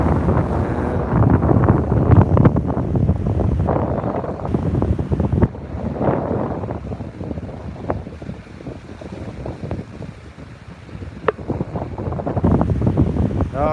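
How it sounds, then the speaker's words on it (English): Strong wind buffets the microphone in loud, rumbling gusts on an Australian beach at sunset, continuous throughout with water and boat noise underneath. "I think it's a bit windy here"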